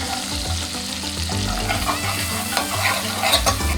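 Shallots fry in a pan with lemon juice and canned sardine preparation, a loud close sizzle with stirring scrapes and crackling pops that keeps up continuously, no one speaking.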